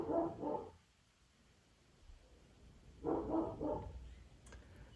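Pepper, a pet dog, barks indoors in two short bursts of two or three barks each, separated by a quiet pause, at moderate distance in a quiet room.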